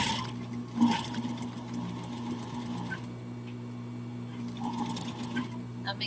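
A domestic sewing machine top stitching a docker hat, a steady mechanical hum with a faint rhythmic needle patter running throughout, nearby and moderately loud, brief clicks near the start and a short pause midway.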